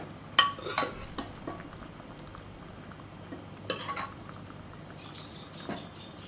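A spoon clinks and scrapes against a pot while cooked dal is stirred into Kerala-style sambar, giving sharp metallic taps early on and another cluster of clatter later, separated by quiet pauses.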